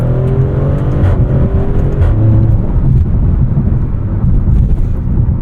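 A Maserati Grecale Trofeo SUV engine pulls hard under acceleration, a loud, deep, rough exhaust growl with rising harmonic tones and brief dips between gears, close and continuous without talk.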